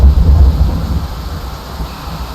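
Rain and thunder in the game Stormworks: a loud low rumble of thunder at the start fades into a steady wash of rain and wind.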